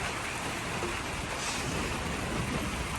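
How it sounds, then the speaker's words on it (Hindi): Heavy rain pouring steadily in a downpour, a dense continuous hiss that stays loud and unbroken throughout with no voices. "ये देखो कितनी तेज़ हो गई बारिश।"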